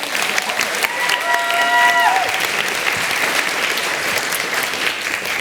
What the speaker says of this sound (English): Could you give an applause, please, for Louis?